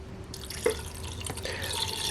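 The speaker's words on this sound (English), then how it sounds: "Now I'm going to add some water." Water poured into the pot of a mini rice cooker with chicken breast inside, a steady splashing trickle with a few louder drips, close by and alone.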